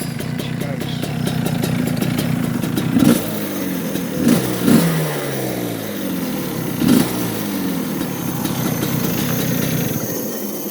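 A small two-stroke Rotax Max kart engine idles with a buzzy, uneven rhythm, blipping into short revs a few times, close and loud.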